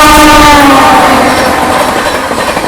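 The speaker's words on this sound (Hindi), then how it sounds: "फिलहाल मैं खड़ा हूँ मेरठ सिटी रेलवे स्टेशन पर और आज हम इसे ट्रैवल करने वाले हैं संगम एक्सप्रेस से प्रयागराज तक।" A Sangam Express train at Meerut City railway station, loud and close, with a sustained horn blast at the start over a rumbling, clattering rolling sound that fades slightly as it continues.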